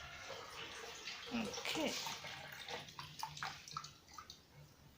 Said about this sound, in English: Our water level is good, so let's get to washing.